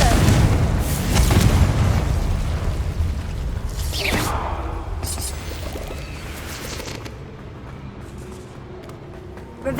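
A loud, booming magical blast effect for the Confringo spell, an explosion rolling out at the start and decaying over several seconds into a rumbling tail with a faint sweeping whoosh.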